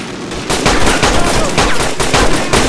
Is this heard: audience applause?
no